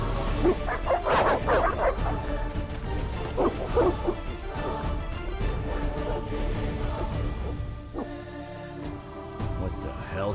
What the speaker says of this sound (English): Evil dogs. Run!